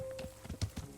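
Horse hooves clip-clop at a steady riding gait in the Kingdom Come Deliverance video game, a short run of muffled thuds heard close and moderately loud, with no talk over them.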